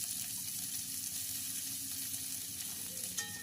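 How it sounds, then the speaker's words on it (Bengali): Chopped onions fry in about one and a half tablespoons of mustard oil for palak chicken, a steady close hiss and crackle of sizzling with a faint clink near the end. "এরপরে পেঁয়াজগুলোকে ওই তেলের মধ্যে হালকাভাবে ভেজে নেব"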